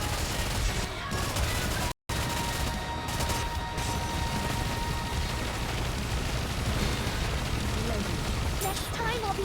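Video game gunfire in Story Rush, a steady, dense rattle of shots and blasts under game music and effects, continuous and fairly loud, with a brief cut near the start.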